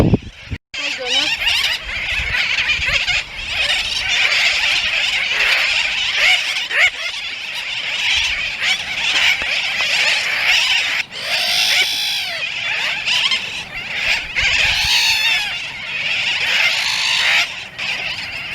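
Thousands of small terns nesting on the ground among bushes cry and squeal together in a dense, continuous colony chorus, loud and close, with overlapping high calls throughout.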